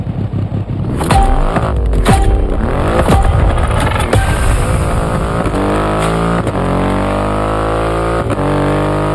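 A Triumph Rocket 3R motorcycle in The Crew Motorfest revs loudly and continuously, its engine pitch climbing and dropping in repeated sweeps as it accelerates through gear changes, close and steady throughout.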